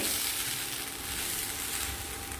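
Rice and three slit green chillies are stirred in a hot pan for spinach khichdi, giving a steady, close sizzle with soft scraping throughout and no talk.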